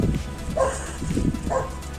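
Dogs barking during an outdoor dog training session, two short yapping barks about a second apart, moderately close, with no talk over them.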